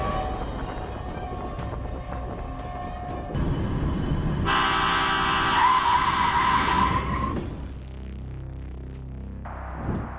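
Two trains collide head-on and collapse: a loud sustained horn blares over rumbling rail noise, then harsh screeching and grinding of metal swell and fade into a rattling clatter.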